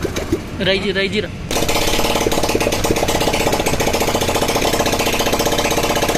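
A TVS Star Sport motorcycle engine, just fitted with a new cylinder head, starts with a sharp catch and then runs at a steady, loud, rapid idle that keeps going to the end, with a short burst of speech at the start.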